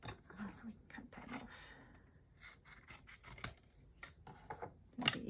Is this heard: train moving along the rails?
no